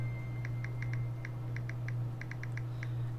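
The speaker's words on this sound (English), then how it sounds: "Click, click, you hear on my phone." Key clicks from a Galaxy phone's keyboard tick out in short irregular bursts while typing, a dozen or so light taps over a steady low electrical hum, close and quiet.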